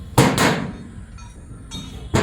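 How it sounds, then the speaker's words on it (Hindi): Light hammer taps strike a rotary part on a tiller as it is knocked loose: two close sharp knocks at the start, a quieter pause, then another knock near the end, with no talking. "अगर नहीं निकल रहा है इसको हल्की सी चोट मार के अपने लोग निकाल सकते हैं।"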